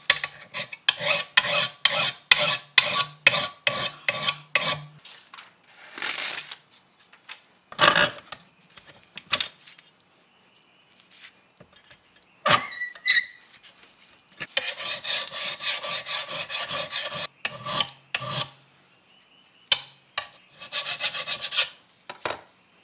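A file rasps across the cutting blade of a Toro TimeCutter zero-turn mower in rhythmic, scraping strokes, heard up close. The strokes come in rapid runs separated by pauses, with a few clinks and knocks in between.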